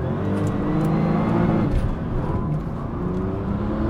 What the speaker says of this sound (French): on va se faire une petite accélération pour voir ce que ça donne